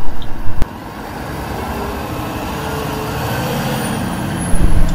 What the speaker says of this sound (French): Camion de poubelle.